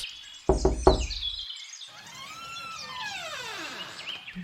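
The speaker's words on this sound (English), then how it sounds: "He knocks." Three quick, sharp knocks land on a wooden workshop door close by, then birds chirp and trill in the surrounding trees.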